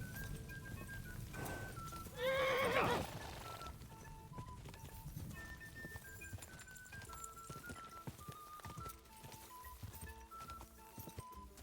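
A horse in a Kingdom Come Deliverance 2 race gallops with steady hoof clip-clops, and a brief loud whinny rises near the start, set against in-game music and ambience.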